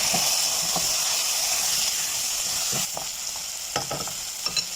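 Chicken seasoned with turmeric, chili powder, cumin and pepper is stirred in a hot pan, a steady sizzling hiss punctuated by scraping spatula strokes and a few sharp clinks, with no one speaking.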